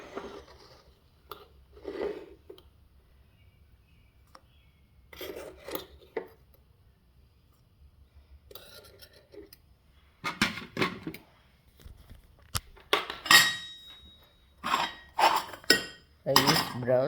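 A metal teaspoon scoops brown sugar and clinks against a coffee cup, scraping grains and sharp clinks coming in separate bursts with quiet gaps between them, closer and busier toward the end.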